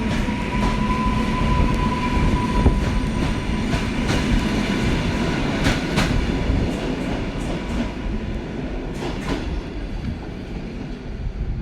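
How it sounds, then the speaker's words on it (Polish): A passenger train on the Katowice–Lubliniec line near Bytom rumbles steadily past with faint clicking of wheels on rails and occasional squeals, loud and continuous throughout. "Pociąg Katowice-Lubliniec."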